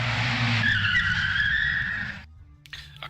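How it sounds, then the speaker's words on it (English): A car roars past with screeching tires, a loud sustained skid and engine howl that cuts off abruptly into near silence, followed by a couple of faint knocks. "A car with a roaring engine and screeching tires drove by."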